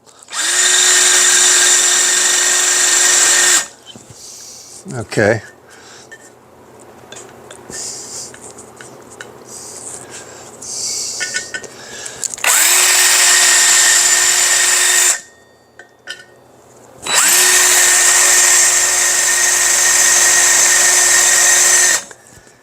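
A drill press bores into metal in three loud, sustained whining bursts separated by quieter pauses with faint handling noise and a brief spoken word.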